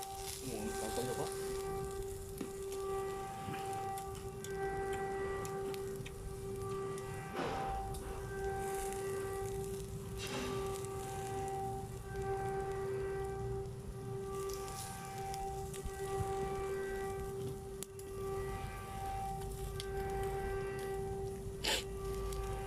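Soft, steady rain patters continuously at a low level, with a constant tonal hum and occasional faint clicks running beneath it.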